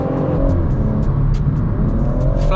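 BMW M140i under full throttle, a loud close engine drone climbing steadily in pitch as the car accelerates, with a brief gear-change dip near the end and no talk.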